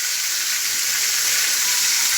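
Grated onion and green chillies with curry leaves sautéing in a pan for mung dal, a steady close hiss and sizzle throughout with no talking.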